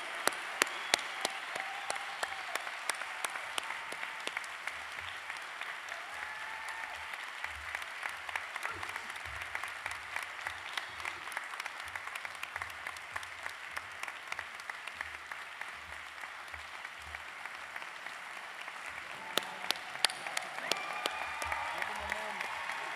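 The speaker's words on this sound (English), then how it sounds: "Let's give a round of applause once more for these graduates." An audience claps steadily for graduates at a 2022 dental medicine commencement, a long, even roll of applause that carries on for about twenty seconds, soft and somewhat distant, with a few louder claps near the end.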